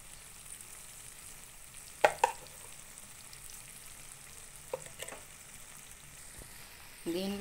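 Prawns fry in a pan after coriander powder goes in, a soft low sizzle throughout with a few sharp clicks of a spoon against the pan and a brief scrape near the end.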